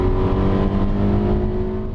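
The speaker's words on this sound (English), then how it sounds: "it still sounds fantastic right through the rev range" A Ferrari California T's turbocharged engine revs loudly and up close, producing a steady, rich mechanical roar that holds through the short stretch without any voices.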